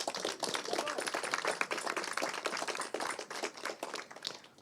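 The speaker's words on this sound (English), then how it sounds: "I think that deserves a clap because they were one of the first." An audience at a trade reception applauds in a dense, even patter of hand claps that holds steady and close throughout, with no break.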